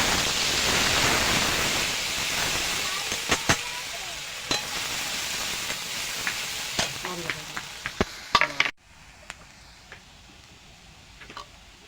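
Onion and garlic paste hits hot oil in a pan, giving a loud hissing sizzle that slowly fades, broken by scraping stir clicks, before it suddenly drops to a quiet low simmer.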